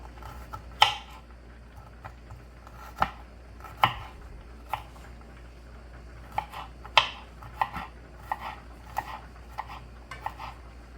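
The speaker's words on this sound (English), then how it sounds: "Now we are going to mince the garlic." A knife chops garlic on a board in quiet, irregular taps, some sharp and close, others lighter, with short pauses between strokes and no talking.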